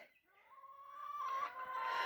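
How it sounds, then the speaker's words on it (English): Chickens, including white birds from a Hutterite colony, cluck and call close by in a short, rising run of squawky notes that swell to a loud, drawn-out cackle. "We got more chickens."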